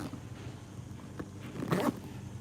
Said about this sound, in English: So I'll zip that one up.